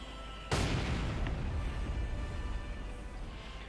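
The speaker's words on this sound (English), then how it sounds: "Further mortar fire" Mortar fire in the strategy video game Company of Heroes 2, heard as a single sudden loud boom followed by a long rumbling decay that slowly fades over a few seconds.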